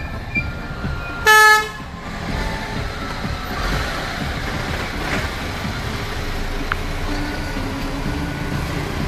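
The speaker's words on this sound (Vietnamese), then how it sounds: "Các bạn đây thấy là đường xe lửa lên Đồng Đăng." A train on the railway line toward Dong Dang near the Chinese border gives a loud horn blast that lasts under a second, then rumbles steadily past on the rails for several seconds at a constant, fairly close level.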